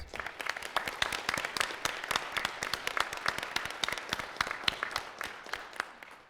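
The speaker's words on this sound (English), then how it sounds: "Let's give him a round of applause." Audience at a school board meeting claps for an honoured member, a brisk run of individual hand claps from a modest crowd, moderately near and steady before trailing off at the end.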